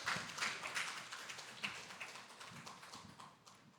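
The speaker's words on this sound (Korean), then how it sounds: "힘찬 박수 부탁드리겠습니다" A congregation at a university chapel service applauds, many hands clapping in a fairly soft, steady patter that fades gradually over nearly four seconds, with no voices over it.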